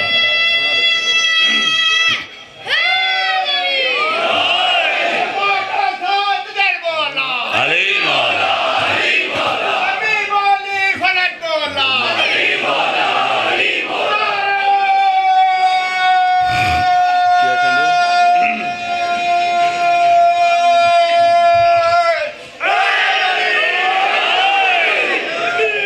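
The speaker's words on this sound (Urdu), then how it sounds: "ایک اچھا نعرہ سناؤ" A crowd at a religious Jashan gathering in Lahore chants a devotional slogan in unison, loud, sustained voices answering a leader's calls with brief pauses between rounds.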